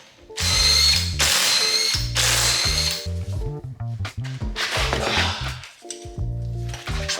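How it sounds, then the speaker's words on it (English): A ratchet wrench clicks rapidly and loudly up close, loosening lug nuts to take a wheel off a Subaru WRX, with repeated bursts of mechanical ratcheting separated by short pauses. "So let's go ahead and proceed with the removal of the tire."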